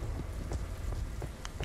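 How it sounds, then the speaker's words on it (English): Rain falls in the Slendytubbies video game, a dense steady patter with scattered louder drops and a low rumbling underneath, fairly quiet and with no voices. "And it's raining."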